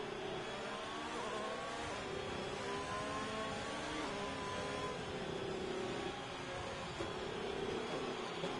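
Several F1 race cars hum and drone steadily in a Singapore night-race video game, engine tones layered and continuous at moderate volume with no talk over them.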